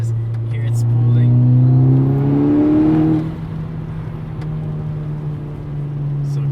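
A Volkswagen Golf R MK6 accelerating on a back road, its turbocharged engine droning loudly with rising pitch and turbo whine, then easing off and settling to a steady cruise.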